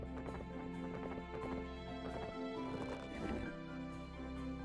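A horse whinnies and its hooves clop, faint and close, set under a steady tonal background hum that holds throughout.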